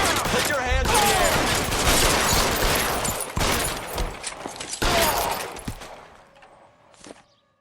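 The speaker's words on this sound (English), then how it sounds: "That machine gun sound." Rapid machine gun fire in the L.A. Noire video game, loud bursts of continuous shots running for several seconds, then tapering off into quieter trailing sounds, with speech mixed in.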